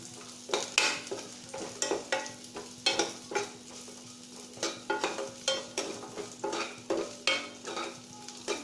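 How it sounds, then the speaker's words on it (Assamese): Ingredients including semolina vermicelli and dried fruits roast in a pan on a low flame, with a spoon stirring and scraping in a steady series of quick, close strokes over a soft sizzle for a custard dish. "এইকেইটা ল' ফ্লেমত অকণমান ৰোষ্ট কৰি ল'ব।"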